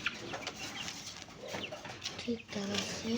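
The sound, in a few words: chickens clucking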